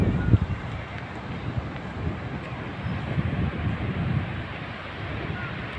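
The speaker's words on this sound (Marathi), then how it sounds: "पूर्ण हवा आहे, दर्या पूर्ण खवळलेला आहे." Strong wind buffets the microphone on Kalam beach, while a rough sea surges and roars steadily beneath it, with a voice faintly present.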